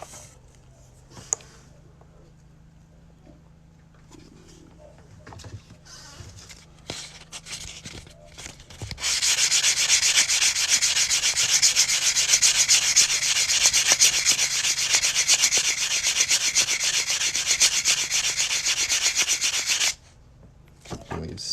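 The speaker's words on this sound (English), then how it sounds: "We've sanded our cut edge so it's nice and smooth." The cut edge of a coin ring is sanded by hand, starting with a few quiet scrapes and handling noises, then becoming a continuous loud, close rubbing hiss for about ten seconds before stopping.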